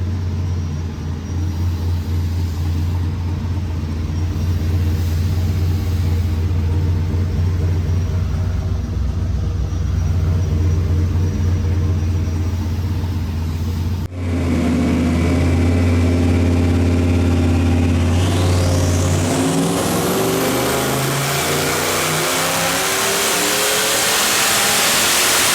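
An LS3 V8 fitted with a Garrett turbo running on a dyno at about 12 psi of boost, a loud steady low engine drone that suddenly shifts into a rising, climbing rev with a whining turbo spool building to a high pitch.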